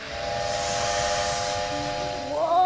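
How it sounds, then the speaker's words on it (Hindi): Cartoon steam locomotive whistle, a sustained steady multi-tone blast over hissing steam, loud and close, ending with a rising warble. "क्योंकि मैं भाप का इंजन हूँ।"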